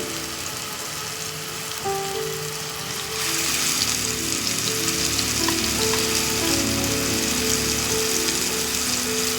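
Onion, ginger and garlic fry in a pan with a dense, rain-like sizzle that jumps louder about a third of the way in and then holds steady, close and continuous with no voices.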